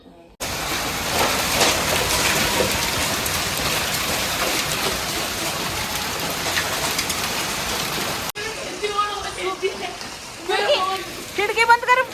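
Heavy rain and hail batter down in a bad storm: a loud, dense, steady downpour for about eight seconds that cuts off abruptly, leaving quieter scattered sounds and chirping birds.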